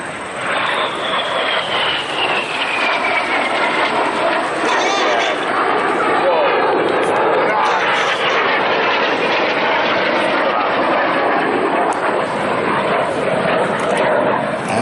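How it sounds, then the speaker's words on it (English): Red Arrows-style aerobatic display jets at the New York Air Show at Stewart International Airport roar past at low altitude, a loud sustained jet rumble with a falling whine over about fifteen seconds while a commentator talks over it. "The aircraft pull out behind us, the smoke goes off."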